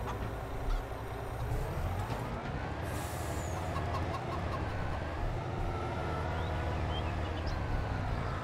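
Chickens cluck in Farming Simulator 22, mixed into a dense, steady bed of farm-machinery and vehicle noise that runs the whole time, with one honk-like blast near the middle.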